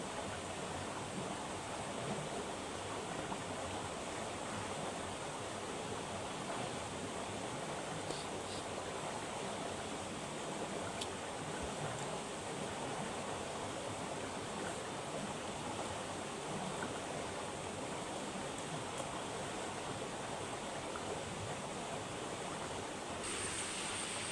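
Constant rushing water, a loud broadband roar like a flowing river or rapids, unbroken for the whole stretch with no voices.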